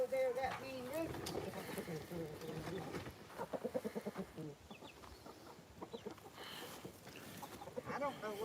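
A hen and rooster cluck and squawk in a short, rapid burst of calls, faint and mixed with people talking nearby.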